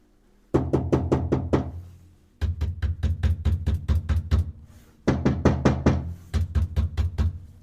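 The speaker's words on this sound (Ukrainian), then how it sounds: "І ще раз попробуємо постукати." Knuckles rap on the cabin panel of a DTZ 550 tractor after vibration and sound insulation has been fitted, in three bursts of rapid, dull knocks that are close and fairly loud, with no talking.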